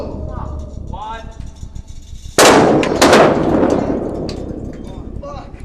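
A massive butane explosion goes off with a sudden loud boom, followed by a second blast and a roaring rumble of fire, after quieter moments with voices talking.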